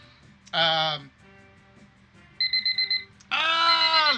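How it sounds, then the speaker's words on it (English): A game show timer alarm goes off loudly with a harsh buzzing ring, then a quick series of beeps and another long blaring buzz, close and dominant over low room noise. "that means the timer has gone off"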